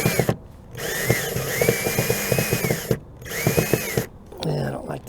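A cordless power drill drives a screw into the top of a homemade wood stove aboard a sailboat, whirring in several close, strained bursts separated by brief pauses.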